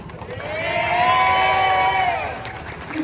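A crowd cheers and whoops together at a rally in Pattaya, Thailand, swelling louder for a few seconds, with high shouts rising over the roar.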